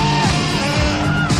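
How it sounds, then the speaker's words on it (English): Raspy growled saxophone line from a 1980s movie scene, loud and sustained with gritty buzzing tone and shifting pitch throughout. "Oh, nice growl there."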